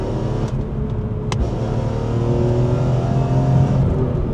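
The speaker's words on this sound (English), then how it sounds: "Another incredible thing of this car is the throttle response." BMW E46 M3 with a naturally aspirated six-cylinder engine and individual throttle bodies, loud close-up steady drone of the engine with a sharp blip partway through, then a continuous low growl.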